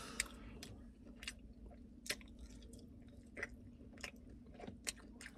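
Quiet, close chewing of Barro's mild chicken wings: soft wet bites and squishy mastication at an irregular pace, with occasional sharper clicks and no talking.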